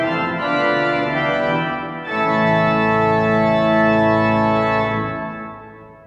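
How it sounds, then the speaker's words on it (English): Pipe organ great chorus built on a 16-foot double Geigen, sounding one sustained chord rich in harmonics with a brief break before a fuller chord that swells and then fades, heard alone. "So this is the primary grate chorus from a 16-foot double Geigen,"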